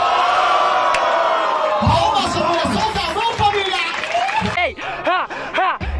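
Crowd at a Brazilian rap battle cheering and shouting, with a loud voice calling out over the noise and occasional bursts of clapping, dense and close throughout.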